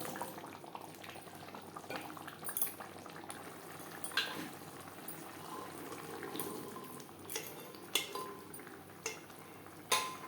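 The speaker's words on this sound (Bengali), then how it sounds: "মশলার সাথে চানা বেশ ভালো করে মিক্সড করে দেবো" Boiled chickpeas being stirred into masala in a pan on a medium flame for restaurant-style chana masala, giving soft scraping and clinking of a spoon against the pan, with a few sharper taps scattered through a steady low bubbling.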